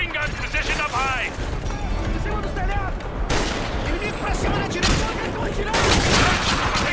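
Sustained heavy gunfire in the Call of Duty: Modern Warfare 2 (2009) campaign, militia machine guns and rifles rattling continuously across a rooftop firefight, loud and dense throughout with voices talking over the shooting.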